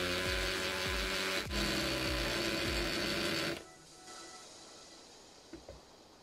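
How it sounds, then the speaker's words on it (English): An electric drill with a special tool shapes the axle end of a Dinky Daimler ambulance model, a steady whirring buzz with regular clicking knocks for a few seconds, then cutting off to near silence with a couple of faint taps. "with the drill and the special tool on it."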